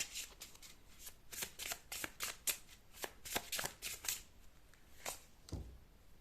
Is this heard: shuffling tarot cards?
yes